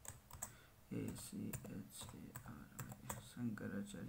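A Wi-Fi password being typed on a computer keyboard, with rapid close key clicks running throughout while someone talks over them.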